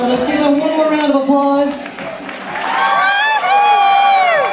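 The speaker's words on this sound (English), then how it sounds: "Let's give them one more round of" Wedding guests cheer and whoop with some clapping, loud and close, shouts rising in bright bursts near the end after a stretch of voices.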